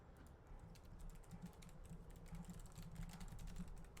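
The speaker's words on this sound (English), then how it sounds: "Well, there's typing noise." Quick, uneven keystrokes clatter on a computer keyboard, soft and close, with brief pauses between bursts of typing.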